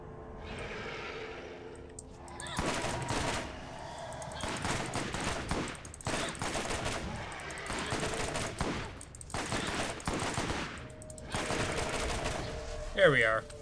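Bursts of rapid gunfire from the video game Borderlands, with repeated loud volleys and brief gaps between them, mixed under an intermittent voice.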